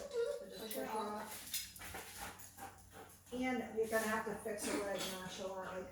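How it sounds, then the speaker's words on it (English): A puppy whimpers and yips in short bursts while a trainer runs a private lesson, with people talking throughout and the dog's small cries coming through between and under the voices. "Yeah, that's the puppy."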